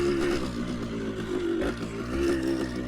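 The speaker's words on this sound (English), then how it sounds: "listen to this little two-stroke." A small two-stroke 1977 Yamaha DT175 motorcycle engine idles and revs nearby with a buzzy, rattling tone that rises and falls.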